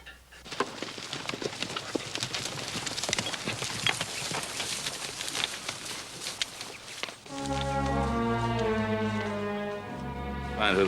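Horses' hooves clop in an uneven walking rhythm at moderate distance, followed by a swell of dramatic orchestral music in a western TV scene.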